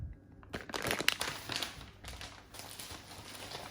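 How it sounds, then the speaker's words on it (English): Plastic parts bags for a Sega Lindbergh Universal arcade cabinet restoration are torn open, giving close crinkling and tearing rustles with a few sharp rips. No one speaks. "me ripping these bags open"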